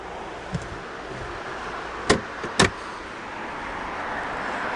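A Range Rover Sport HSE's power tailgate closing, with two sharp clunks close together midway, then a steady low hum in the background.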